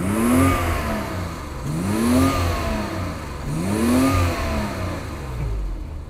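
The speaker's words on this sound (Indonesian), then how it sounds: "Apa kita geber lagi ya suaranya biar kita kedengeran ya." BMW E34 535i with a completely stock exhaust, revved three times in a row, each rise and fall of the engine loud and close with no talking.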